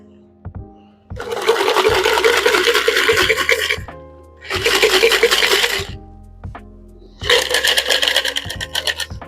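Espresso martini pours through a fine strainer into a chilled glass in three bursts of splashing liquid, with small metallic clicks and taps between the pours.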